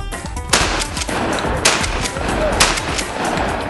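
Video game gunfire, loud and continuous bursts of rapid shots with sharper louder cracks punctuating the stream, filling the whole stretch up close.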